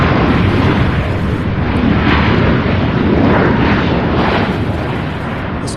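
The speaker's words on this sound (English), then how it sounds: "Oh, we have the Southwest flight coming in." Southwest airliner arriving at Louisville International Airport, a loud, sustained jet roar that swells slightly and then eases as the aircraft passes, with no talk.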